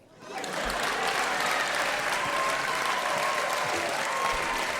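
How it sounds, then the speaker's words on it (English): A live studio audience at a folk music show claps steadily after a short quiet start, dense continuous applause holding loud and even throughout. "Just applaud."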